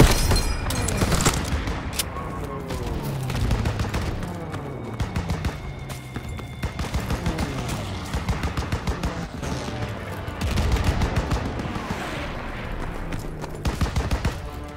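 Dense World War II battlefield gunfire in Call of Duty WWII, continuous bursts of rifle and machine-gun fire with booming impacts, loud and chaotic throughout, mixed with shouted voices.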